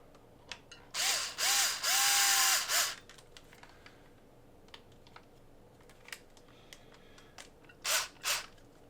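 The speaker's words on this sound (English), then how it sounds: "Take my trusty drill, and we will, let's see, which ones does it go to?" Power drill driving screws into a Rhino Racing Shark RC drift car chassis: a loud whirring burst of about two seconds with rising and steady motor tones, small clicks of handling, then two short drill bursts near the end.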